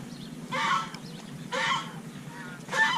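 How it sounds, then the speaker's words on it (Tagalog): A goose honks three times in spaced bursts, loud and close, over a low background murmur. "Ito yun, may gansa."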